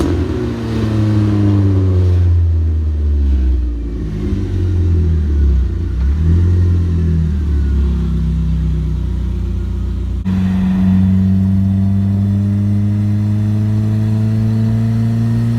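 A Mazda Miata with an ECOTEC engine swap drives on the road, its engine revving up and down through gears in loud, close rising and falling drones, with no voices.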